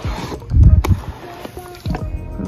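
A toy water gun from a two-pack of soaker blasters fires a strong stream in short bursts, giving splashy, gurgling spurts close by with a pause between them.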